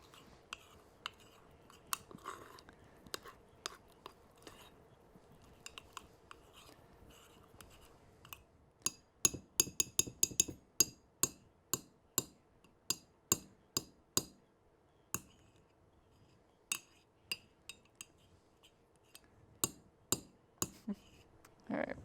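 A utensil scrapes and stirs batter in the bottom of a mug, a faint, close series of quick clicks and scrapes that grows busier and more rhythmic midway, then thins out.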